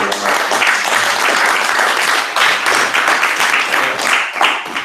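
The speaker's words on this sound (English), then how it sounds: "let's give a round of applause for" Audience applause at a startup night event, steady dense clapping from a crowd filling the whole stretch, loud and sustained with no talk over it.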